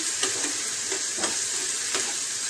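Eggplant stir-fries in a mustard spice paste with turmeric and green chilli, giving a close, steady sizzle broken by several soft scraping stirs of the spatula against the pan.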